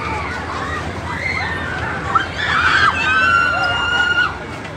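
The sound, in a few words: people screaming on fairground spinning ride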